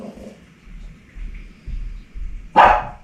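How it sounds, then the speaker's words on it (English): Dogs outdoors bark from a distance, a few faint scattered barks followed by one sharper, louder bark near the end, over a low background rumble. "Dogs are barking at me."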